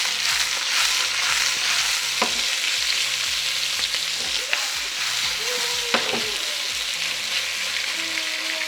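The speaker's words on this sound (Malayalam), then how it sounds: "ഇനി ഇത് ഇളക്കി കൊടുക്കാം." Sliced potatoes and onion fry in a pan, seasoned with salt and pepper for a Spanish omelette. Steady loud sizzling runs throughout, broken by a few scraping stirs of a utensil near the end.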